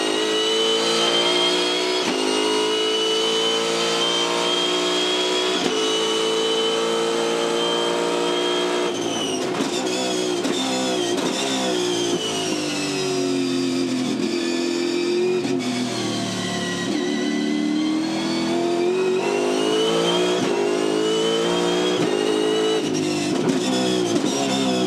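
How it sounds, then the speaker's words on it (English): The V8 Supercar race car engine roars loud and close in an on-board lap of Pukekohe Park, rising and falling in pitch through constant acceleration, gear changes and lifts off the throttle, with no speech. "On board with David Reynolds here for a full lap of Pukekohe Park"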